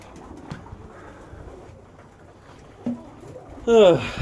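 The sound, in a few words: pigeons cooing while being fed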